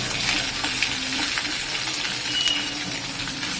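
Steady sizzling of spices and curry leaves frying in a pan, with faint scraping as they are stirred, continuous and close.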